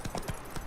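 Horse hooves clip-clop on the ground in The Witcher 3: Wild Hunt video game, four or five loud, close, evenly spaced hoof strikes.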